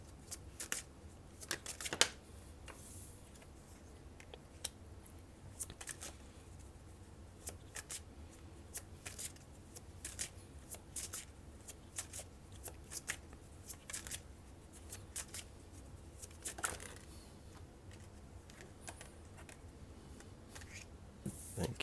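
Tarot cards being shuffled by hand, soft papery riffles and taps coming in irregular bursts, close and fairly quiet with no talking.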